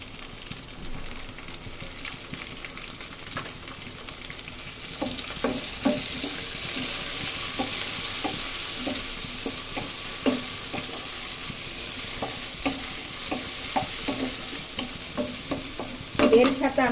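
Chopped tomatoes frying with browned onions in a pan for a farm chicken curry, a steady soft sizzle punctuated by repeated spatula scrapes and taps at an irregular rhythm, close and moderately quiet.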